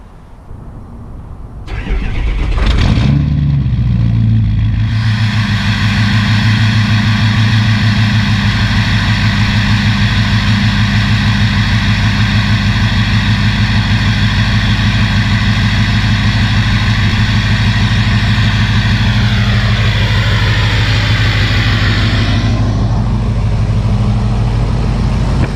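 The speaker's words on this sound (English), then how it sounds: "I'm going to let that truck warm up a little bit, and then we'll go for a drive." Ford 6.0 Powerstroke diesel pickup truck starting up, then settling into a loud, steady, rumbling idle as it warms up, with a slight shift in tone near the end; no talking.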